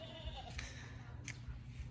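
Young goats on a farm bleat faintly in short calls over a steady low background rumble, with no speech.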